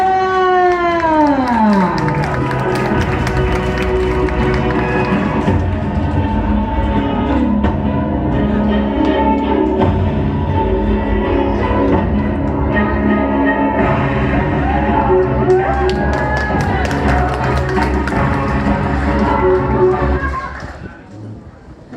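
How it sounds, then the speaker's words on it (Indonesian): A seminar audience gives a sustained burst of applause and cheering lasting about twenty seconds, dense and loud throughout, with music and voices mixed in before it fades out at the end. "Kita beri aplaus yang meriah"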